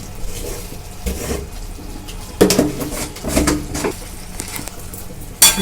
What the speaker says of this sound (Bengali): দিয়ে মিশিয়ে নিচ্ছি ভালো করে।